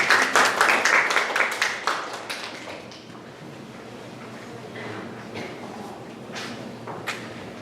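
An audience at a Korean speaking contest for foreign students claps to welcome the next speaker. The dense applause is loud at first, then thins to scattered claps over a quiet room.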